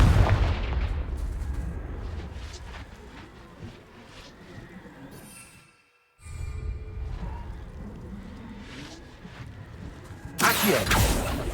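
Spell explosions from Confringo in Hogwarts Legacy, a series of booming blasts and impacts over game ambience, with a brief silent gap midway and a loud burst near the end.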